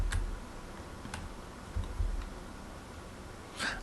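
Computer keyboard keys pressed while operating a Commodore 64 emulator, a few sparse, faint clicks spaced irregularly over a low background hum, with no talking.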